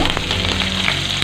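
Curry leaves crackle and sizzle loudly in hot oil with mustard seeds and fenugreek for a seela fish curry, a brief, dense frying hiss up close.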